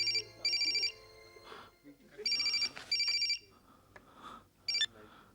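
A telephone rings in repeated electronic bursts of trilling tones, loud and close, with short gaps between rings and quiet movement in the pauses, in a sad film scene.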